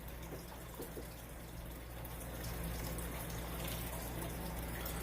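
Water filter pump in a tank pouring a steady trickling cascade like a small waterfall, with a low mechanical hum beneath that swells slightly as it struggles, close and quiet.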